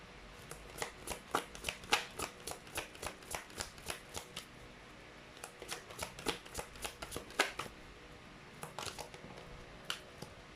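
Tarot cards are shuffled by hand in a quiet room, a long run of quick crisp riffling snaps in uneven bursts, close and fairly soft, with short pauses between groups and no talk.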